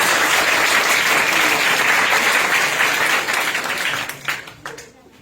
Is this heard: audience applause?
yes